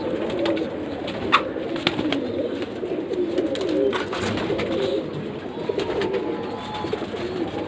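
Pigeons coo in steady, low, repeated murmurs close by, the cooing carrying throughout with occasional sharper clicks and faint talking in the background.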